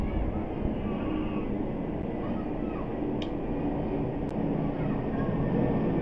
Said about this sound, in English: My house is close to the airport, so like the plane is making a noise.